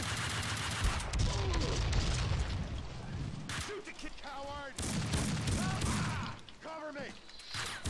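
Rapid bursts of gunfire fill a Max Payne 2 firefight on the hardest difficulty, with loud sustained shooting and clanking mechanisms under a voice calling out and chirpy electronic tones in the gaps.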